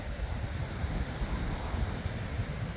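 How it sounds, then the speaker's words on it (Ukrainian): Black Sea waves washing onto a beach below a cliff near a lighthouse at Sanzhiika, heard as a steady broad surf roar mixed with wind noise, with no speech. "хвилі, які у нас є на Чорному морі"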